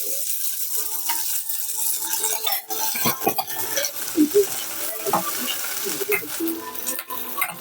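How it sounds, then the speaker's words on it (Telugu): Red chillies fry in oil in a pan, and scattered spoon stirs and clinks break up an uneven, moderate sizzle. Brief faint sounds pass in the background. "మిర్చి రెండు బాగా వేయించుకోవాలి."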